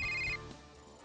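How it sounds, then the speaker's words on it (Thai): A telephone rings in a Thai military-themed video game, giving a few rapid electronic ring pulses that stop abruptly, followed by quieter ambient game sound. "มีโทรศัพท์เข้า"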